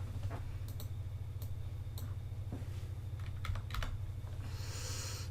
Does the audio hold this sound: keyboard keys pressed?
yes